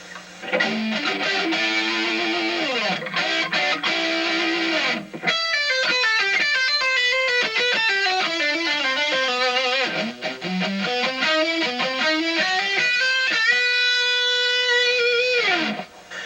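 An electric guitar plays a slow, deliberate run of single notes with slides and bends, loud and continuous, with a short pause partway through.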